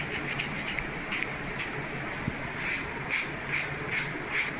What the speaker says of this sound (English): Now let's start sanding trailing edge.